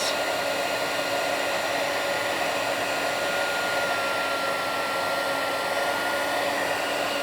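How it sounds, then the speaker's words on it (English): A heat embossing tool blows hot air to melt embossing powder, giving a steady, loud, unbroken whirring hiss from start to finish with no talking. "So hold it till it melts, and then a couple of seconds more, and then move on."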